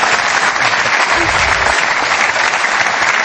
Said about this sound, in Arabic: تصفيقة كبيرة